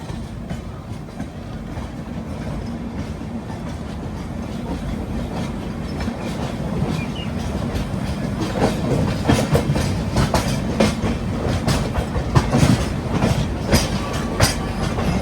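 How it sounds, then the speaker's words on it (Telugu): Dharmavaram–Machilipatnam Express train passing close by on a line near Vijayawada, a steady loud rumble of wheels and carriages with rhythmic clatter that builds in intensity toward the end, no voices. "అటు సైడ్ ఏదో ట్రైన్ అయితే వస్తుంది"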